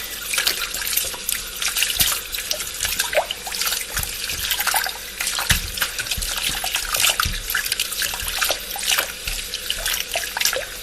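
Potatoes being washed under a running kitchen sink tap, a steady close splash of water with irregular drips and trickles, no voices.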